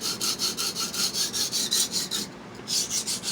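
Steel blade rasping back and forth across a coarse Baryonyx sharpening stone, a steady rhythmic series of close, scratchy strokes with one short pause.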